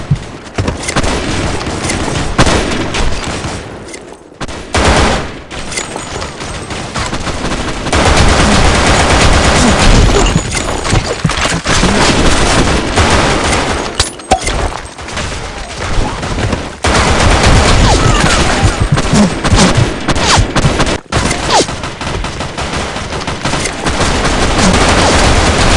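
Weapon fire in the online shooter BlackShot crackles in dense, loud bursts of rapid shots with booming reports, broken by a few brief pauses.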